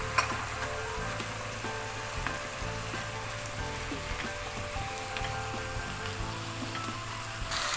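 Tomato paste sizzles in a pan with sweet red, yellow and orange peppers, a steady, close frying hiss and crackle with no talking.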